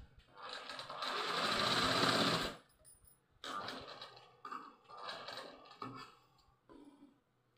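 A sewing machine stitches a small frock in several close bursts: one long run, then shorter starts and stops with brief pauses between, each a fast rattling whir.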